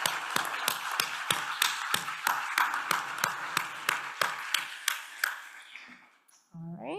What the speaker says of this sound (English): please join me in a round of applause for these guys